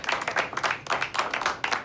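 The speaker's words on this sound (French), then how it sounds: "Je crois qu'on peut l'applaudir" A small group claps in short uneven bursts, the hands rising and falling in loudness for a couple of seconds, with no voices heard above it.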